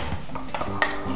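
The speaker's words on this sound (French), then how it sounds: "Tu peux mélanger." Pink, raspberry-coloured pancake batter is mixed in a pot, giving soft scraping and a sharp utensil clink against the pot over a short stretch, close by.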